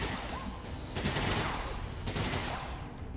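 Enemy gunfire in XCOM 2 War of the Chosen, a dense fusillade of shots with two louder bursts rolling through, steady and close, with no voices over it.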